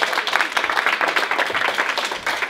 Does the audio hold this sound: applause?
yes